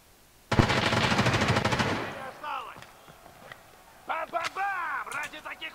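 Rapid automatic gunfire bursts loudly in a video game arena match, a long sustained spray followed by scattered shots and a second short burst, with a voice talking over parts of it.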